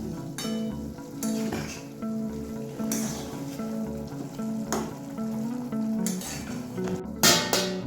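Poppy-seed paste being mixed into a frying dish of bottle gourd greens, with sizzling, a spoon stirring and clinking against the pan, and occasional sharper scrapes, close and without talk.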